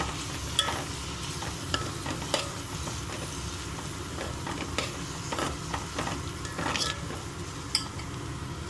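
A spatula scrapes and stirs egg fried rice in a hot pan, with a steady sizzle underneath and irregular metallic scraping strokes close by.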